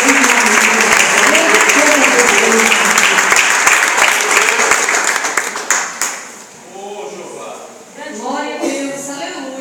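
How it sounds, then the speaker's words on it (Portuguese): A church congregation applauds during a family worship service, loud sustained clapping that fades after about six seconds, giving way to a voice speaking over the tail. "aplauda o Senhor Jesus porque Ele é merecedor"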